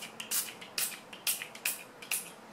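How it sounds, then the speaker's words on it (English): A nearly empty bottle of makeup setting spray is pumped about six times in a steady rhythm, each a short, close, airy hiss. "Setting spray. Stuff is almost out"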